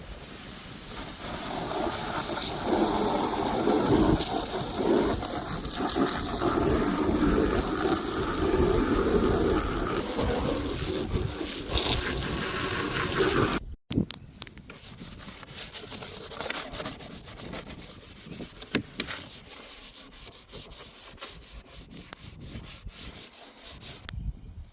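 Water from a hose sprays loudly and continuously against a duck cage and its contents for about fourteen seconds. A sudden cut follows, then a quieter, uneven stretch of rubbing and splashing.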